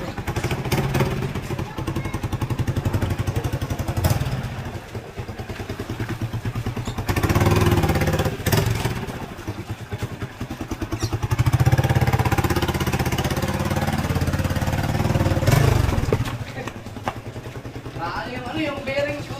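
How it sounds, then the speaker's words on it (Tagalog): A motorcycle engine runs nearby with a rough, clattering idle that rises and falls in bursts, while people talk over it throughout. "Maganda yan ulit ang motor natin."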